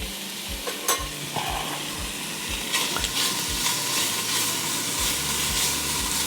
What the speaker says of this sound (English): I'm going to take all of this bacon that I just cut up, put it right in there.